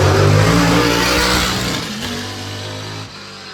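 Can-Am race car with a 5-litre engine, as run in the 1977 series revival, revving hard at the Goodwood hill climb; a loud, close, sustained engine roar that eases slightly toward the end with no talk.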